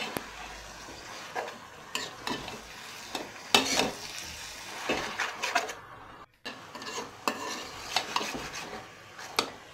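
A spatula stirs and scrapes through shrimp curry with chili and sour leaves in a pan, repeated clattering strokes over a soft frying sizzle, with a brief pause midway.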